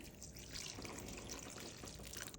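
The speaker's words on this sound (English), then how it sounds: "Now just add 4 cups of water in here" Water poured into a crockpot of bacon-based New England clam chowder, a steady continuous splashing pour lasting the whole moment, close and fairly even in loudness with no talking.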